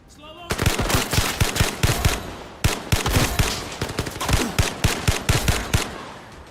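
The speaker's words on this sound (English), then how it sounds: "It's just an AK with an extended mag." An AK rifle with an extended magazine fires in a video game, loud rapid bursts of automatic gunfire repeating in quick clusters with brief pauses between them, close and continuous for several seconds.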